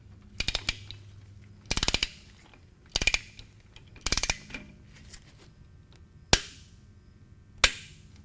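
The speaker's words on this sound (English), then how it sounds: "You'll want your torque wrench set at 14 to 21 foot-pounds of torque." Torque wrench tightening a transmission plug on a Harley-Davidson motorcycle, sharp ratcheting clicks in four short bursts followed by two single loud clicks, close and alone in a quiet space.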